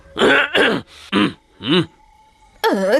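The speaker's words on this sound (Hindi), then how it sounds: "खांसी है तो दवा खाओ।" A series of short, rough coughs and throat clearing, close and loud, with brief pauses between them and a final longer voiced cough.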